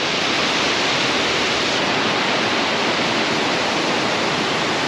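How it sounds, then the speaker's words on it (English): A loud, constant roar of rushing water, broad and unbroken, close to a waterfall in the Scottish Highlands near Loch Maree. "I'm gonna have a wild guess, that's a waterfall"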